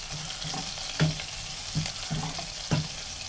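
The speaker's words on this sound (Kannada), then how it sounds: "ಸ್ವಲ್ಪ ಬೆಳ್ಳುಳ್ಳಿ ಹಾಕ್ಕೊಂಡು ಜೊತೆಗೆ ಸ್ವಲ್ಪ ಕರಿಬೇವು ಸೊಪ್ಪು, 1 ಗೆಡ್ಡೆ ಈರುಳ್ಳಿ ಸಣ್ಣದು, ನೀಟಾಗೆಲ್ಲ ಮಿಕ್ಸ್ ಮಾಡ್ಕೊಳ್ಳೋಣ ಎಣ್ಣೆಯಲ್ಲಿ." Garlic, curry leaves and a small onion frying in oil, a soft steady sizzle with a few light clinks of a utensil stirring the pan at close range.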